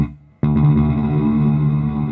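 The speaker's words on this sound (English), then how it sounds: "You can really hear now with this turn back how this is a bunch of short delays. Check it out. Hear it ping-ponging around." An EarthQuaker Devices Afterneath V3 reverb pedal on guitar, its short delays ping-ponging into a dense, sustained wash that swells in abruptly after a quiet start and rings on steadily.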